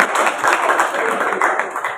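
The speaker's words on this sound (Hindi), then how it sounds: "जोरदार तालियों से स्वागत किया जाए" Applause at a community conference in Jodhpur: a dense, steady crowd clapping that lasts the full couple of seconds at strong volume, with no talking over it.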